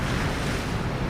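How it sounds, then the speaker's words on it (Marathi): A sea wave bursts against a small wooden boat in a brief, loud, close surge of rushing water and wind, with no voices. "आणखी एक लाट होडक्यावर फुटली"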